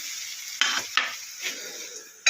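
Potato, paneer and mixed vegetables frying in a pan with salt and turmeric for veg paneer chowmein: a steady soft sizzle broken by a few sharp stirring scrapes and clinks of a utensil, close by, with no talking.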